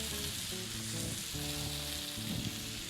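Beef short ribs sizzle steadily in hot rendered fat in a pan, a continuous crackling fry with a low hum underneath, close and unbroken by talk.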